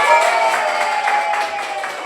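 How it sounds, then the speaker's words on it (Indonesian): A classroom group claps for the winning team in a short, moderately loud burst of applause that carries on steadily for a couple of seconds. "Beri tepuk tangan untuk lebah."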